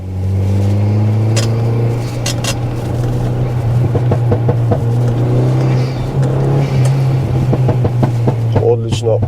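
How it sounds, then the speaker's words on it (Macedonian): Audi A3 8L engine and exhaust droning steadily from close by, a deep sustained tone that rises slightly as it revs, with a few faint clicks and knocks over it. "Одличен звук. Не ми треба радио во оваа кола, би го извадил скроз, само би уживал во нотите кои што ги вади."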